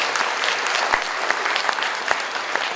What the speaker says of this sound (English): Big round of applause for our top-level sponsors.